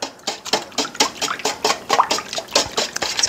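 Raw eggs are whisked by hand in a bowl, a close, brisk series of wet slapping strokes in a fast, regular rhythm, with no talking.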